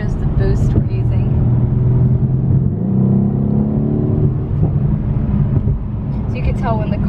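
A 2017 Mercedes-AMG C63 S coupe engine accelerating, a deep steady rumble that swells under the throttle, heard from inside the cabin beneath someone talking.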